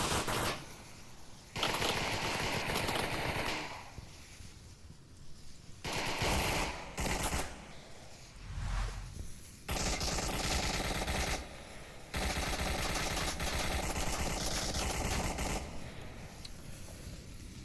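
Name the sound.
gunfire in Onward VR video game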